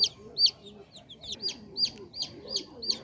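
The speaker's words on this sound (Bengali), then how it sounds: "এখানে যে মুরগির বাচ্চাগুলো আছে এগুলা দেশি মুরগির বাচ্চা" Newly hatched desi (native) chicken chicks, just out of the incubator after 18 days, give repeated high, sharp peeping chirps in a quick irregular series, close and fairly clear over a faint low background murmur.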